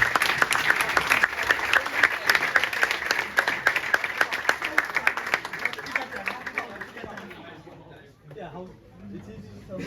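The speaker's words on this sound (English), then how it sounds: "Round of applause for Daniel." A round of applause for Daniel, a youth football player, at a club end-of-season presentation evening: sustained crowd clapping with some chatter, fading away near the end as a voice continues.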